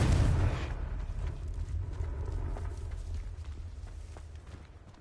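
A Confringo blast in the Hogwarts Legacy game erupts with a heavy low boom at the very start, then fades into a rumbling, crackling tail over several seconds.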